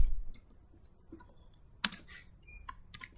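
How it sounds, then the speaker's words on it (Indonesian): Scattered clicks of keys on a computer keyboard, typed in short irregular bursts with a louder strike near the middle, close and otherwise quiet with no talking. "di sini kita ketik accept"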